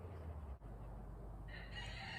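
Roosters crow and chickens cluck together in a busy backyard flock, a steady close wash of fowl calls with a rising crow near the end.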